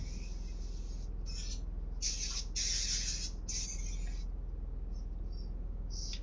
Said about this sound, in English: This thing's apparently, you can just spray it in a room and it'll kill it apparently